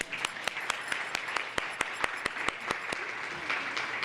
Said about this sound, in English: Can we clap and give an applause for that?